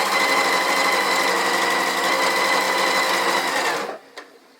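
A sewing machine chain-stitching gingham quilt fabric squares with a quarter-inch foot runs in a steady, loud, fast mechanical whir for about four seconds, then stops abruptly, leaving a brief click in near silence.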